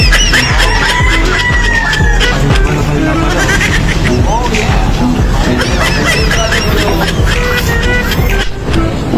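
A chicken being held in someone's hands clucks and squawks in short repeated bursts close by, with people talking loudly over it.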